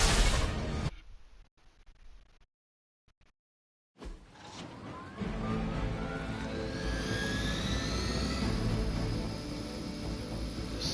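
A Hydra helicopter in the video game Midnight Suns, heard as a loud, sustained engine roar with a rising whine. It starts after a brief cutout and a near-silent gap, then holds steady with no talk.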